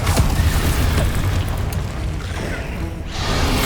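An Incendio fire spell is cast in the video game Hogwarts Legacy, a loud, sustained roaring boom with whooshing rumble that stays heavy for several seconds, briefly thins, then swells again.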